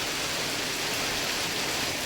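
Heavy rain pours down at night, a dense, steady hiss of broadband noise that stays even and unbroken throughout, with no voices.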